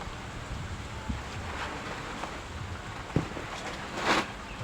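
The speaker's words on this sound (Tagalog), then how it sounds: "Lakas ang hangin." Constant wind buffets the microphone in a dense roar, with occasional gusts and soft rustles rising briefly over the steady noise.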